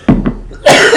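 Two short coughs close together, followed by a louder, rougher burst that trails off, all close to the microphone.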